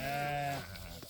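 A sheep bleats once, a single loud, close, wavering call from a flock of ewes with lambs kept for sale, fading into quiet background.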